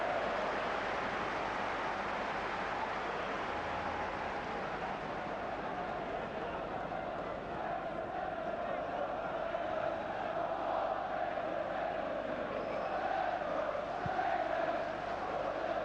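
A football crowd of 38,000 fills Anfield for Liverpool against Aston Villa, producing a steady, distant roar of murmuring voices and chanting that holds at an even level throughout.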